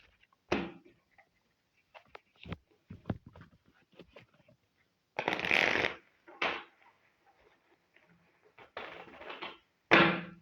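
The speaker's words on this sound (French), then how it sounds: "Je vais tirer quelques cartes du tarot." Tarot cards being shuffled by hand, short riffling bursts and soft slaps scattered across the clip, with a couple of longer shuffles near the middle and end, close and fairly loud in a quiet room.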